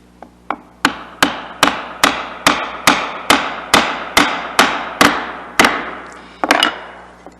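Steady sequence of about a dozen sharp mallet blows on a chisel, evenly spaced, as a dovetail trough is hand-cut in wood. The strikes are close and loud with brief wooden ring, then a short double tap at the end, with no talk.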